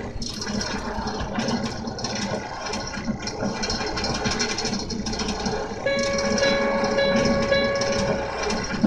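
A train rumbles along the rails with a steady rolling clatter on an eastbound run from Richmond to Powder Springs, and a sustained high tone rises in the last few seconds.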